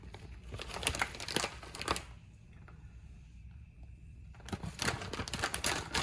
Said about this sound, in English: I have to go get a knife and open the bag because it wouldn't let me tear it properly.